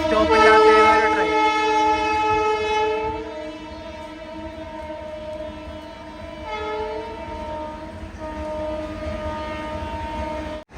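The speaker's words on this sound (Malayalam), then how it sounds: "ഇവിടെ സ്റ്റോപ്പില്ലാത്ത ട്രെയിൻ." A non-stopping express train runs through a railway station on the line from West Bengal to Kerala. Its horn sounds long and loud as it nears, and a steady rolling rumble of wheels continues while it passes.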